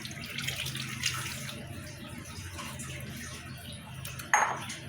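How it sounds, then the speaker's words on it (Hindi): Cooking oil pours steadily into a pot of mutton with a soft continuous trickle, ending in a brief metallic clink. "अभी इसके ऊपर हम ये ऑयल डालेंगे"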